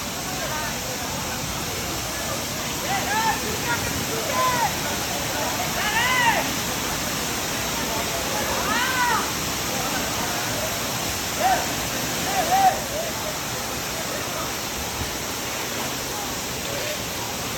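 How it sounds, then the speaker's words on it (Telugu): Valasa waterfall pours in a steady, broad roar of rushing water from nearby, continuous throughout, with people talking faintly beneath the noise. "వలస వాటర్ ఫాల్ ఇది ఇక్కడ నుంచి ఇలాగా పర్లే అనుకున్నాను"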